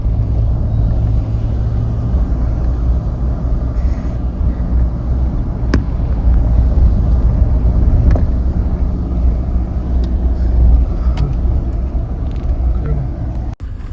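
A car's engine and tyres rumble continuously as it drives a steep, winding mountain pass road between Tso Moriri and Manali, with steady road and wind noise close to the microphone and occasional small clicks.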